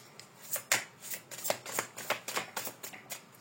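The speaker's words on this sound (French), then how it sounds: "Alors, je vais brasser comme ça plutôt." Oracle cards are shuffled by hand in quick riffling bursts, close and fairly soft, with a steady uneven rhythm and no voices.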